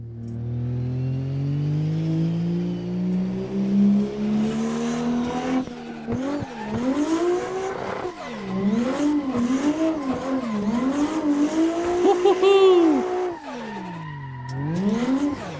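A Nissan 180SX drift car's engine revs hard in Assetto Corsa 2, climbing steadily then bouncing up and down with rapid throttle changes and tire squeal.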